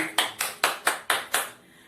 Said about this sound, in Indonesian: kita tepuk tangan untuk teman